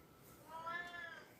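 A pet cat gives a single rising, drawn-out meow, faint and somewhat distant against quiet room background.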